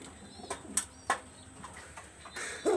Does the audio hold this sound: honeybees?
no